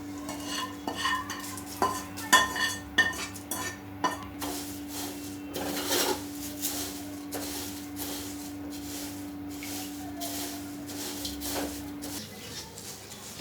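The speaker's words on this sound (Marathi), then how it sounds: "आता या पोह्यांमध्ये आपण फोडणी जी केली आहे ती घालून घेऊया" A spoon or spatula scrapes and clatters against a pot as fried tempering is stirred into poha for chivda, with irregular strokes close by over a steady hum and light background sizzle.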